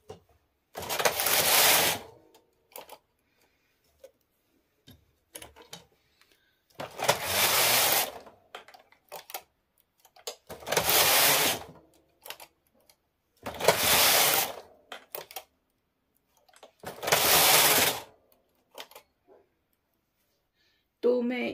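A knitting machine carriage slides across the needles in five separate passes, each a loud, close rasping sweep of about two seconds with near silence between.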